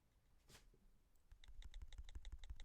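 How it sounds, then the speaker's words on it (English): Key clicks from an iPhone touchscreen keyboard running the iOS 10 beta, returned to the older iOS 9-style click: a quick, steady run of soft, crisp taps starting after a single louder tap, quiet and close, with no talking. "So now when you type on the keyboard, you'll have the old click noise"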